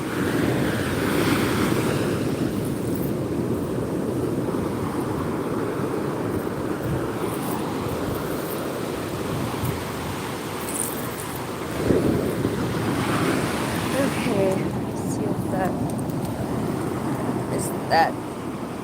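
Ocean surf washing onto a Florida beach as the tide comes in, a steady broadband wash with wind noise on the microphone and a few louder surges near the end.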